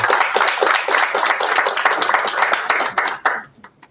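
A conference audience applauds, a dense steady patter of many hands clapping that carries on for about three seconds, then thins out into a few scattered claps and fades.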